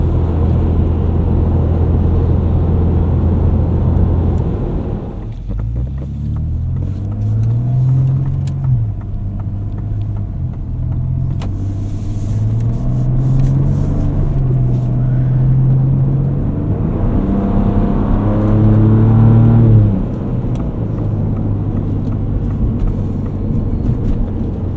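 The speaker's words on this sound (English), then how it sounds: "Going through some slush now." Interior of a 2024 Ford Ranger Raptor on Firestone Destination mud-terrain tires driving through slush in snow, with a steady engine drone and shifting tone as it accelerates, plus tire rumble and splashing noise underneath.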